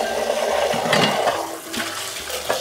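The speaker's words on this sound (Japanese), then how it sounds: "シェイカー回しながらねジャバジャバやって洗うだけなんで結構簡単ですね。" Running water splashes steadily into a sink as a plastic protein shaker is swirled and rinsed under the tap, with a continuous close-up wash of water and occasional small knocks.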